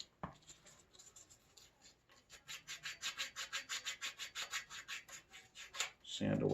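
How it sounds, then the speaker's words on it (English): A small piece of sandpaper rubs rust off the frame of a vintage Trek bicycle in quick, rhythmic back-and-forth scratching strokes, close and fairly quiet, ending with a brief clatter. "sand away some of this rust"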